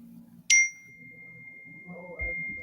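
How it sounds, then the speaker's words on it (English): A single bright notification chime rings out like a struck chime bowl, a sharp strike followed by a long, thin sustained tone that slowly fades while quiet background noise and a faint voice sit underneath. "That noise make you feel so peaceful, like you hit one of those chime bowls."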